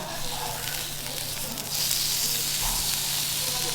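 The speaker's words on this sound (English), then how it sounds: "Pork belly going on now." Pork belly sizzles on a Korean BBQ grill in a steady, close hiss of frying fat that grows a little louder partway through, with no talking.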